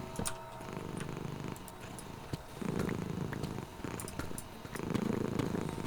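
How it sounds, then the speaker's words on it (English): A cat purrs loudly right at the microphone in low rumbling pulses that swell and ease with each breath, about three strong bursts with brief gaps between, alone without speech. "Some very strong purring for Pyrocket."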